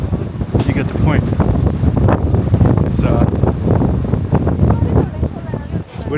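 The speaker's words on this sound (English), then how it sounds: "You hear that wind screaming past? That's what we got. Very loud wind." Loud, blustery wind in the open mountains around Grindelwald, Switzerland, buffets the microphone with a heavy low roar and gusting rumble, drowning out most other sound.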